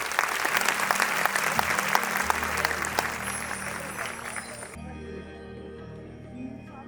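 An audience bursts into loud, dense applause at a devotional Krishna program, many hands clapping steadily before the clapping cuts off abruptly, leaving a faint hum.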